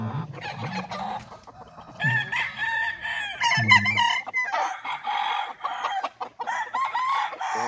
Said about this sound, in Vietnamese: Đây là một trong ba con gà mình mới mua đấy.